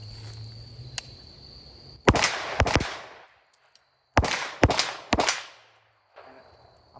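Springfield Armory Kuna pistol caliber carbine fires outdoors in two quick strings of three sharp, loud shots, each crack ringing off into a short decay, with quiet pauses and faint hiss between.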